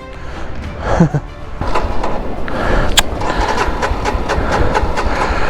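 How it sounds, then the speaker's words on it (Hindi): A motorbike is started on a rough mountain road between Batal and Gramphu. A few clunks are followed by the engine catching and running steadily, close and loud, with faint voices around it. "बाइक स्टार्ट नहीं होगी हमारी।"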